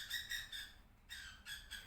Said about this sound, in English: my cockatiel bird starts singing